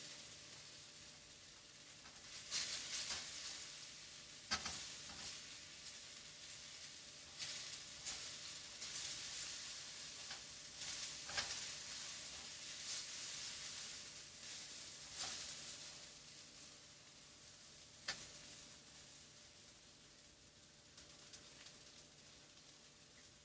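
A large panful of stir fry sizzles quietly and steadily as it cooks down, with occasional scrapes and clatters from stirring breaking through the continuous hiss.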